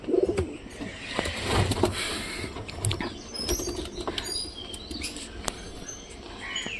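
Pigeons in their coops, several birds giving soft repeated cooing calls at close range with occasional wing flaps and faint chirps, no talking.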